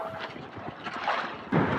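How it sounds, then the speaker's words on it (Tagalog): Steady wind gusts buffet the microphone on a small fishing boat out on Lamon Bay during daytime squid hunting, a close, rushing roar with slight surges and no talking. "Medyo mahangin"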